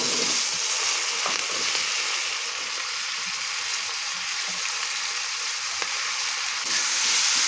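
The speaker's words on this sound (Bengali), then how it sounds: "পেঁয়াজ টমেটো এইভাবে ভাজা হয়ে গেছে, লাল লাল হয়ে গেছে।" Onion, tomato and green chili sizzle and fry in hot oil in a pan with five-spice tempering, a steady bright crackle throughout with a few stirring clicks, no voices.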